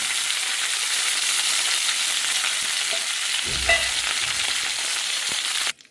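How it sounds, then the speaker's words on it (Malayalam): Oil sizzles steadily and loudly as dried chillies and curry leaves fry, with a brief stir partway through and an abrupt cutoff. "ഇനി നമുക്ക് ഇതിനകത്തോട്ട് ഉണക്കമുളകും കറിവേപ്പിലയും കൂടെ ഇട്ട് കൊടുത്തു"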